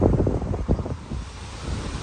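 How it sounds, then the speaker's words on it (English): Strong wind buffets the microphone beside the River Ant at Sutton Staithe, a loud, rumbling low roar with gusty surges and no talking. "as you can probably hear, it's very, very windy"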